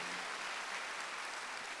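A church congregation applauds during a Wednesday worship service, a steady wash of clapping from many hands that holds evenly at moderate level throughout with no talk over it.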